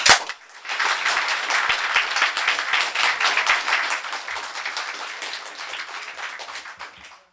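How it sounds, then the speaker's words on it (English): An audience applauds the teachers who coached two school debating teams at a debating final, with dense, sustained clapping that swells at once, holds steady for several seconds, then thins and fades out. "give a round of applause to the teachers involved in coaching these two teams"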